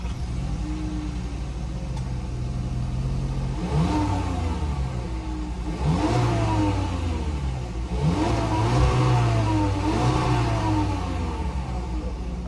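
A 2021 Volkswagen Jetta R-Line with a 1.4-liter turbocharged four-cylinder is revved repeatedly, three or four rising and falling engine sweeps over a steady idle, loud and close with no talk.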